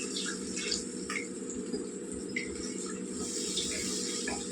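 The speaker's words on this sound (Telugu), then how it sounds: "ఇలా ఇప్పుడు మనం ఇందులో నీళ్ళు వేసేస్తున్నామండి" Water poured into a pot of mango, brinjal and drumstick curry, a faint steady splashing trickle with a few soft drips, heard alone and quiet.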